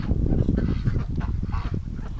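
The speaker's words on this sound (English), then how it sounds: "Hello, ducks!" Ducks and geese on a farm give a dense, continuous run of honks and quacks, nearby and fairly loud with no pauses.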